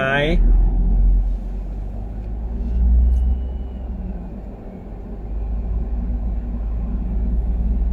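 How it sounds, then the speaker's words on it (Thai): From inside a vehicle stuck in heavy traffic, a deep, steady engine and road rumble swells and eases as the car creeps along, with someone talking over it. "รถติดมากเลยครับวันนี้"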